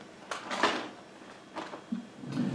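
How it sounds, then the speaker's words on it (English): Drawers in a clinic slide open and shut in a few quick, fairly faint knocks and scrapes over a quiet room. "Those drawers are really loud."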